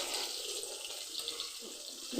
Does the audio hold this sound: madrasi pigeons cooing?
no